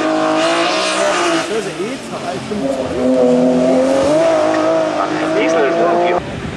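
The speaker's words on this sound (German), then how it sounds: "Und Frederik Nett aus der Schweiz, aus Moutier, auf dem BMW 325 E30" A BMW 325 E30 race car at the Mickhausen hill climb, its engine revving loud and close through several gear changes, with tyre squeal, as a commentator talks over it.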